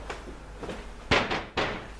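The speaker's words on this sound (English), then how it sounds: "a girl knocks on her sister's door" Someone knocks on a bedroom door in a few dull, hollow thuds, the later knocks louder and close by, with no voices.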